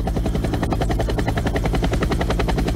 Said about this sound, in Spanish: Ya ve, esto es helicóptero, lo que yo le dije.